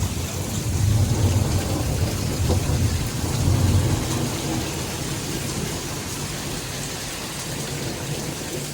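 Thunderstorm over Highland County, Ohio, with steady heavy rain hissing on surfaces and low rolling thunder swelling twice in the first few seconds, then easing into an even, continuous downpour.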